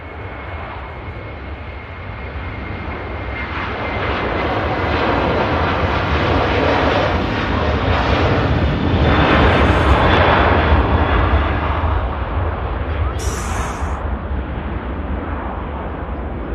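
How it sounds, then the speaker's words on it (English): An Aer Lingus Airbus A330-300 jet takes off from Manchester Airport, a loud, sustained deep engine rumble that swells and holds steady, with no talk over it. "proper rumble there from the A330 heading off to Orlando"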